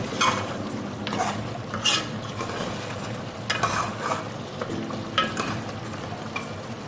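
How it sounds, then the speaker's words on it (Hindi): Mutton stew for a Pakistani-style dish being stirred and fried in oil in a pot, with a steady sizzle under repeated scraping stirs of a spoon, close and continuous with no talk. "अब हम इसको थोड़ा सा भूनेंगे।"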